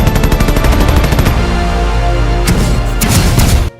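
Battle sound effects of machine gun and mortar fire, a dense loud burst of rapid automatic shots over deep booming rumble, continuous before cutting off abruptly at the end.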